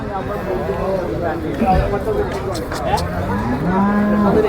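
Cattle at a Malappuram market where dairy cows are sold, several loud close moos rising and falling in pitch while people talk nearby amid background chatter.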